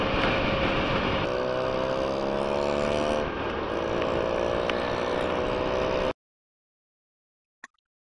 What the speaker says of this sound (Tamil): வண்டியோட சவுண்டு பாருங்கள் எந்த அளவுக்கு இருக்குது.